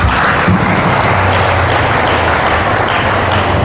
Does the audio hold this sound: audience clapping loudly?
yes